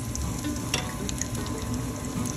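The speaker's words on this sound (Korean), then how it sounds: "열이 올라오면 대파 흰 부분을 넣어주세요" Green onion whites dropped into hot chili oil mixed with cooking oil for cockle jjamppong, a steady crackling sizzle with scattered sharp pops, close and continuous.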